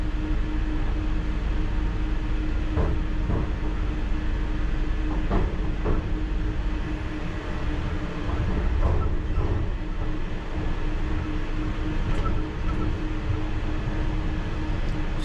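London Underground Piccadilly Line train slowing toward a red signal, a low continuous rumble and hum with scattered clicks and rattles of wheels and carriage fittings, heard from inside the cab with no talking.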